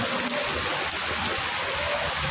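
Light drizzle falling outdoors, a soft continuous patter of small drops with a gentle hiss, steady and moderately close, with no voices.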